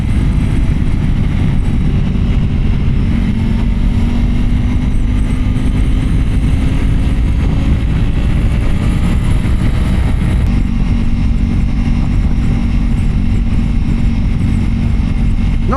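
A BMW M1000RR and a Ducati Pikes Peak sport bike ride along twisty roads, a steady loud engine drone with slowly climbing tones beneath heavy wind rush for the whole stretch, with no voices.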